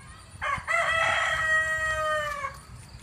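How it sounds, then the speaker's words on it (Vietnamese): A rooster crows once in a garden, a single drawn-out, close, loud call that rises and then trails off over a quiet background. "nghe tiếng gà nó gáy không?"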